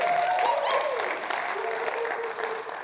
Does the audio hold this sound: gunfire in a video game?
no